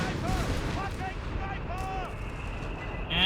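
Artillery bombardment in Company of Heroes 3, dull booming blasts and rumbling impacts under a continuous din of battle noise, with whistling shell sounds sweeping across the mix.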